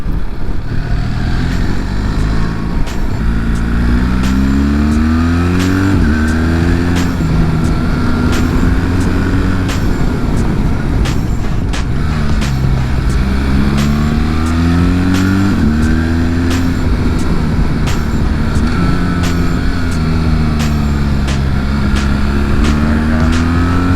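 BMW R1300GS motorcycle ridden along a twisty, bumpy road in Italy, its engine revving up and down through repeated rising and falling pitch sweeps as it accelerates and shifts, loud and close for the whole stretch.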